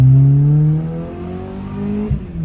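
A 1996 Honda Civic with a 90-horsepower engine pulls away under acceleration, its loud engine note climbing steadily in pitch close by, then easing and dipping briefly near the end.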